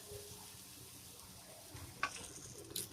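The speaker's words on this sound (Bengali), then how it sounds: "খুব সুন্দর করে ভেজে নেব।" Eggplant pieces frying in oil with turmeric and salt, a soft steady sizzle with a couple of brief louder crackles and stirring clinks near the end.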